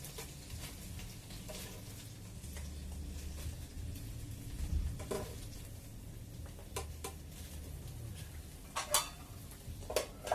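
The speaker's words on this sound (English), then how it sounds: "Got the stir of the eggs." Eggs being stirred in a frying pan for a Spanish-style breakfast, with a steady low sizzle under scraping and clinking of a utensil against the pan, and several sharp knocks toward the end.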